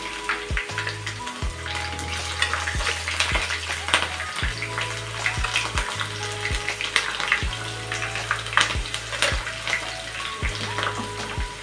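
Cut onions frying in hot oil for a spicy mutton curry, a steady close sizzle broken by rhythmic scraping and stirring strokes, with no talking.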